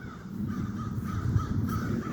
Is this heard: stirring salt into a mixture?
no